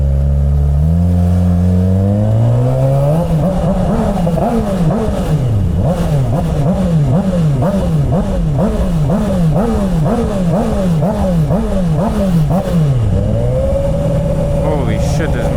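A GSXR 600 motorcycle filtering through rush hour traffic, its engine revving up, then repeatedly rising and dropping in quick rhythmic throttle blips, loud and close with wind noise, ending in a steady idle.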